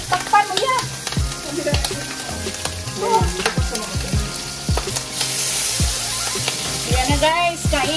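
Chicken frying in a pan, sizzling and crackling loudly and continuously, with sharp spattering pops and clinks of stirring throughout.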